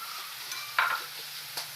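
Shrimp paste (alamang) sautéing in a pan gives a soft, steady sizzle broken by a few brief scraping stirs of a utensil, close and fairly quiet.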